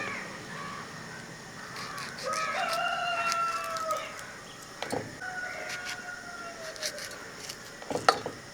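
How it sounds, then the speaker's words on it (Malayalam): A rooster crows in the morning, with two drawn-out calls at moderate distance, the first longer than the second, over quiet background with a few faint clicks and knocks nearby. "കോഴിക്കൊക്കെ ഇപ്പോഴാണ് തോന്നുന്നു നേരം വെളുത്ത്"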